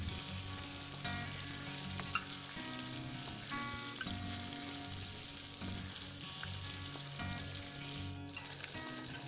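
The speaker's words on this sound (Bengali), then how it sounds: "তো মাছটা একটু ভালো করে ভেজে নিও" Catla fish frying in hot oil in a home kitchen, a steady close sizzle with crackling spatter running the whole time, plus occasional clinks and stirring noises.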